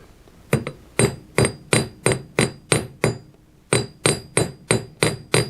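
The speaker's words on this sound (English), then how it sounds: "we take the flat end of our hammer, a few pops with it angled" A hammer strikes a metal bracelet on an anvil in a steady rhythm, about a dozen sharp ringing blows with a short pause partway through.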